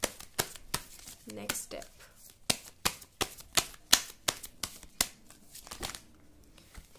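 Tarot cards being shuffled, a run of sharp papery riffling snaps repeating steadily through the clip, close and fairly loud, with a voice speaking briefly over them.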